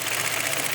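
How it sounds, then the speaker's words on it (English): Sewing machine stitching PVC sheets together for a bouncy castle, a rapid, steady mechanical chatter running close and loud without pause before stopping abruptly. "Did you like the sound of the sewing machine when they stitched the PVC together?"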